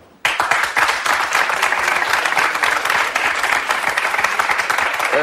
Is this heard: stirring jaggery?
no